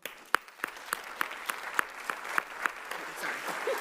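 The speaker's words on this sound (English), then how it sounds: "Too busy clapping." An audience at an awards ceremony in New York applauds, steady crowd clapping with a few sharp, nearby claps standing out at an even rhythm.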